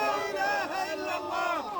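An agitated crowd of men pushes forward outside a Misrata hospital, many voices shouting and calling at once in a dense, loud, continuous clamour.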